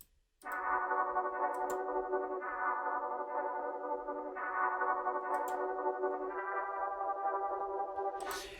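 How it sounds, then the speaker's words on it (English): A Kontakt synth layered over a textured kalimba melody plays dark, sustained chords with an echoing, shimmering texture, steady and moderately quiet, with a brief higher burst at the end and no voices. "layering a synth playing the exact same chords"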